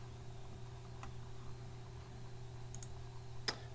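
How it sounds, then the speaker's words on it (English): Small, close computer mouse clicks, one single and then a quick double click, over a quiet steady hum. "I'll just simply double click the second floor"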